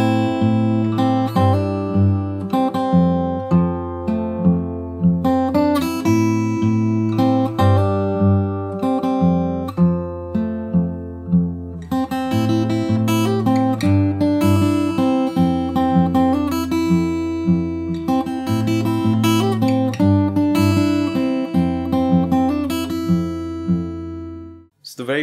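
Fingerstyle acoustic guitar plays the verse of a song, with plucked chords and a steady bass pattern running for about twenty-five seconds, close and clear, with no voices.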